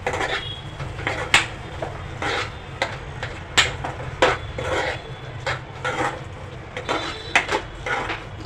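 A spoon scrapes and knocks against a pan as roasted eggplant is mixed into a fried crushed-peanut masala for baingan bharta, with irregular clinks and scrapes repeating steadily over a low hum.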